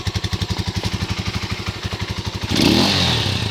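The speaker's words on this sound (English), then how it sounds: "This motor is idling about 500 RPM." A 2018 Serpento Taypan 200cc motorcycle idles at about 500 RPM, its single engine thumping in an even, rapid loping pulse up close, then giving way to a louder, rougher burst of noise near the end.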